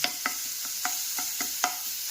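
A chilli, garlic and ginger paste sizzles steadily in a hot pan while a spoon stirs it, scraping with light, irregular taps every few beats.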